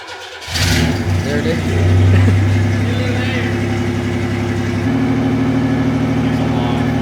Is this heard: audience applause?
no